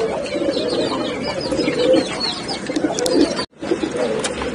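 Turtle doves coo softly and repeatedly at close range, low rounded calls with a few faint chirps in the background.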